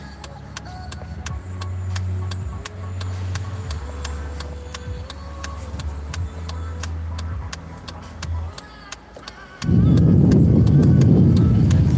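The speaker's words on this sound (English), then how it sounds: "Hopefully this light doesn't last too long so you don't have to listen to my signal for so long." A car's turn signal clicks in a steady, even rhythm while the car waits at a traffic light, with a low engine hum and some tonal sound under it, ending in a burst of louder rumble.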